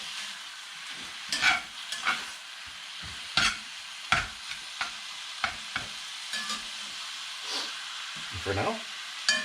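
Ground beef browns in a pan for chili, with a low steady sizzle broken by intermittent scraping stirs of a utensil, close and moderate, and someone speaks briefly at the start.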